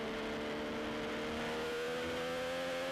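Onboard a race motorcycle at Snetterton, a sustained high engine whine with steady harmonic tones held at high revs, a continuous drone with no voices.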